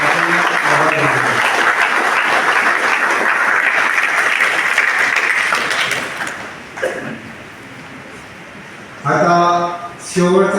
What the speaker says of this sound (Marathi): आपण आपल्या सर्वांच्या वतीने जोरदार टाळ्या वाजवून आपल्या शिक्षकांचे आभार मानतो